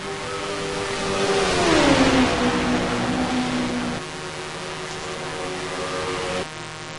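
Race cars roar past in a racing video game during an all-star race, a loud sustained engine drone whose pitch sweeps down as the cars pass, then steadies and holds.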